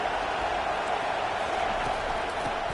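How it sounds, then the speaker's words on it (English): Continuous broad roar of a college football stadium crowd, steady and dense throughout with no distinct voices standing out. "This crowd bringing the energy and noise early."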